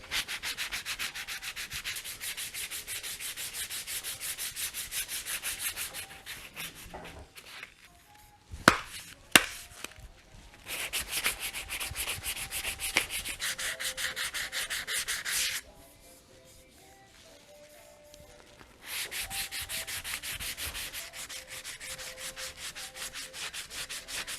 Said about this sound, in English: as your sandpaper becomes more and more worn, it will begin to load up more and more frequently